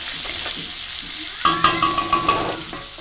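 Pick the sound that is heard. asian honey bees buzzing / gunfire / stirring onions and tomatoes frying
stirring onions and tomatoes frying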